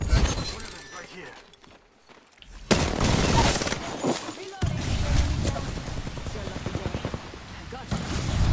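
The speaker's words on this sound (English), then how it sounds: "Getting shot at." Gunfire in a first-person shooter video game: a quieter opening gives way to loud bursts of shots and impacts that keep going to the end, with a player's voice talking over the action.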